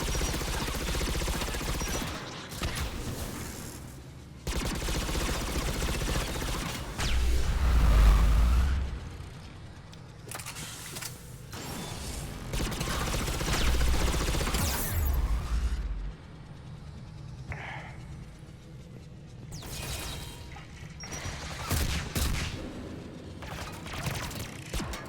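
Gunfire from a Mass Effect 3 cover-shooter firefight, with bursts of shots, metallic mechanical clanks and low booms coming in loud uneven clusters that rise and fall.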